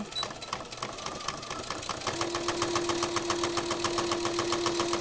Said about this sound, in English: We're just going to push it over and top stitch that down.